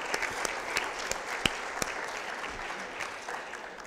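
An audience at a summit applauds with steady clapping that stays moderately loud and sustained, with no voices over it.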